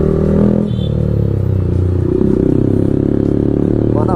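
A Yamaha MT15 motorcycle engine runs steadily and loud up close with a droning, slightly rising note and some clattery rattle as it revs while riding.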